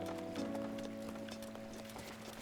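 Horse hooves clip-clop in Breath of the Wild, a rapid run of light rhythmic hoof strikes over a steady low game hum, fairly quiet and without speech.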